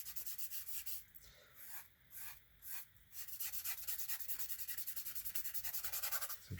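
A brush scrubs oil paint across a gesso board for a sky, a close, dry rhythmic rubbing that comes in uneven bursts at first, then settles into steady quick back-and-forth strokes.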